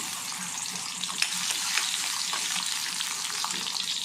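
Small shallots fry steadily in sesame oil for a Chettinad fish curry, giving a dense, even, close sizzle with faint crackles and pops and no talking.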